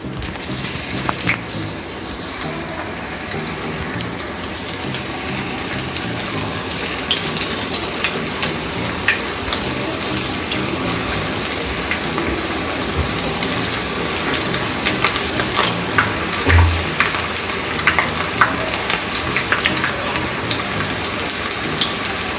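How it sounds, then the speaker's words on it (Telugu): Sweetcorn pakoda batter sizzles in hot oil, a loud, continuous crackling hiss close by that holds steady throughout with scattered sharp pops and no talking. "ఇప్పుడు మనకు ఆయిల్ కూడా వేడైపోయింది. ఇప్పుడు వేసేసుకుందాం మన పకోడీ."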